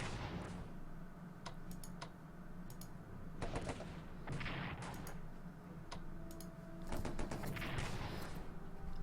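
Artillery firing in the wartime strategy game Strategic Command: World War I, a series of sharp cracks and short bursts scattered over a steady background hum, some shots clustered in quick runs, moderately faint.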